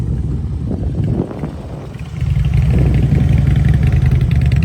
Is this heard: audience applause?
no